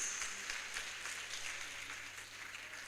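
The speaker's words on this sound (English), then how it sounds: "Please keep clapping until he makes his way to the stage" Audience applause fills a conference hall at a tokenized economy event, with a steady wash of clapping at moderate distance and fairly faint throughout.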